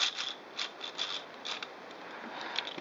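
A 3D-printed plastic gear train turns with a soft, dry whirring rub, faint ticking meshing clicks repeating roughly every half second, close and quiet.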